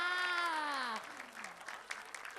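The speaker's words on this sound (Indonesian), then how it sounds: "beri tepuk buat tangan semuanya dulu" An audience applauds at a theater comedy show. A voice calls out with a falling tone, then broad, steady clapping follows at moderate loudness and carries to the end.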